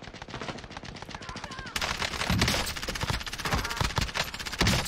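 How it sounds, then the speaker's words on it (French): Rapid machine-gun fire in the shooter game Warzone, dense continuous bursts of close, loud shots growing heavier midway, with players talking underneath the barrage. "Ça tire là."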